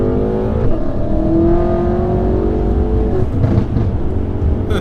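BMW M5 with a titanium Akrapovic exhaust, tuned to about 1000 bhp, revs loudly and steadily at close range on a night drive, its engine note rising and falling for several seconds with no talk.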